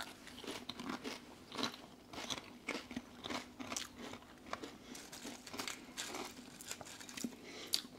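Someone crunches and chews Monster Munch crisps, a quiet close run of crisp bites and crackly chewing pulses in a loose rhythm, with faint packet crinkling and no talk.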